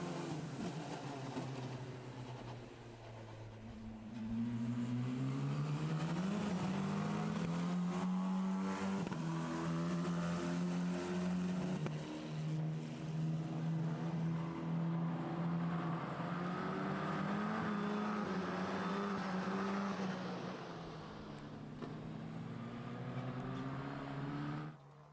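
Formula 4 race cars at the Most circuit, engines rising and falling in pitch as they accelerate, shift and pass, loud and sustained for most of the stretch, growing fainter briefly near the start and end, no voices.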